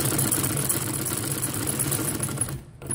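A sewing machine stitches cloth for a Sindhi poncha hem design, running in a steady close mechanical whir that cuts off abruptly near the end.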